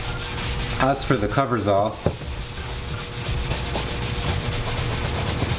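Graffiti marker paint is buffed off a surface with a buffing material, steady close rubbing strokes that run under a man's brief speech and continue on their own.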